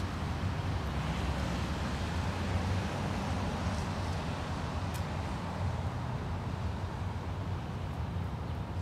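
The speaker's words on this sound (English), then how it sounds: "It's a little bit windy out here." Steady, rushing wind noise outdoors at an Easter sunrise church service, a continuous roar buffeting the microphone with no voices.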